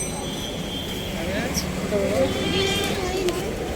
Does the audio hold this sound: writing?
no